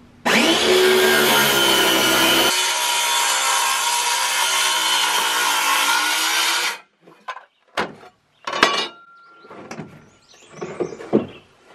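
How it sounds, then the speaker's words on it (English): A power saw cuts through plywood and 2x3 lumber while building a goat hay feeder: a loud, close, continuous whine for about seven seconds, then abrupt stops followed by scattered knocks and scraping handling sounds. "It cuts all the way through the plywood center, but it leaves a little bit to be cut on the 2x3s."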